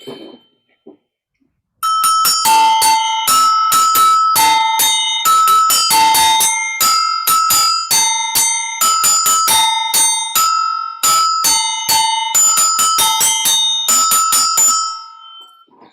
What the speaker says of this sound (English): Those bells are loud, man. Those things sound good.